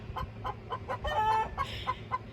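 A hen clucks the egg song in a quick, rhythmic series of loud, close cackles, with one drawn-out squawk in the middle.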